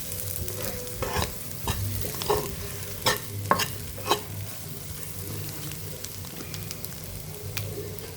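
Curry leaves frying with an egg fry in a pan, a steady close sizzle and crackle with occasional sharper pops and stirring scrapes, no voices.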